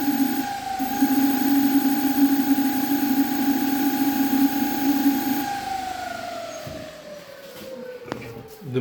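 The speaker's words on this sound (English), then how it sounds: "The motor runs very fast." A Lunyee 48V 2000W 12-inch wheel electric hub motor spinning fast, a steady high whine that holds level for several seconds then slides downward as it slows, heard close with light background noise.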